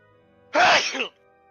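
A single sharp sneeze bursts out over quiet room tone during a Dungeons & Dragons tabletop session, loud and close, lasting under a second with a brief second puff at the end.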